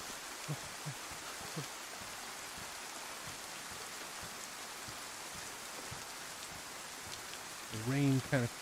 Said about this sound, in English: The rain kind of freaks me out a little bit.